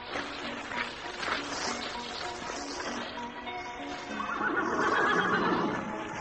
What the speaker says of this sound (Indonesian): Rupanya kudamu yang meringkik-ringkik dari tadi